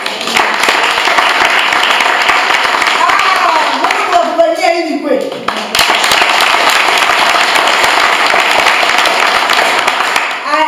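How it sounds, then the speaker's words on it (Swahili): A church congregation claps in sustained, loud applause, with a preacher's voice speaking over the clapping throughout. "Nikia Bwana Yesu makofi."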